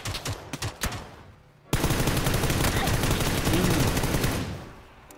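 Gunfire in PUBG on Xbox: a few sharp separate shots, then a sudden, sustained, loud stream of automatic fire that carries on for several seconds before fading out.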